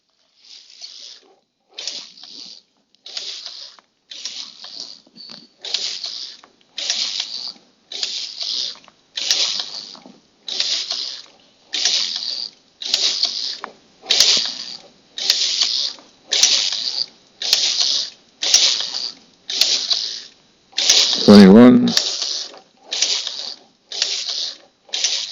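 A Dubied knitting machine carriage sweeps back and forth knitting tight, small stitches, making a long regular train of bright, swishing mechanical passes that grow gradually louder, with a brief clunk near the end.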